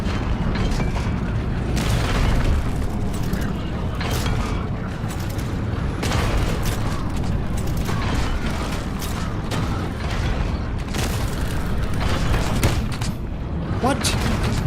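Rumbling explosions and mechanical crashes from the Scrap Mechanic building game boom repeatedly in an underground setting, a dense low-heavy roar with several sharp bursts spread across the stretch, while people talk now and then.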